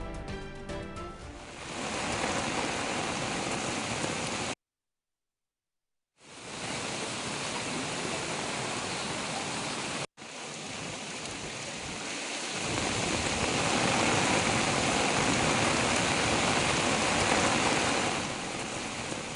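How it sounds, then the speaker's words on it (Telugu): Heavy rain pours down in the Panjagutta area of Hyderabad, a dense, steady roaring wash heard close and loud with no voices, broken by one short gap of silence and a brief cut before the downpour continues. "పంచాగుట్లో భారీ వర్షం కురుస్తోంది."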